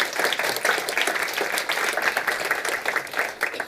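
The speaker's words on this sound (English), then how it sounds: "Come on, let's give them a round of applause." An audience at a European forum conference applauds the catering staff, a dense, steady burst of many hands clapping that carries on for several seconds.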